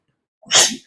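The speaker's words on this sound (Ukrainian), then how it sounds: "будь здорова" A single sharp human sneeze, loud and close, bursting out of silence and fading quickly.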